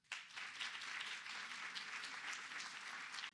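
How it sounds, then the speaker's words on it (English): An audience at a museum symposium at the Toledo Museum of Art claps in a steady, even burst of applause lasting a few seconds, then stops abruptly. "Please give another round of applause for Mika."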